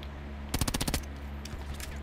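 Automatic gunfire in Black Ops 4 on the Nuketown map, a quick burst of about eight rapid, loud shots in half a second, followed by a few fainter scattered pops against a low game background hum.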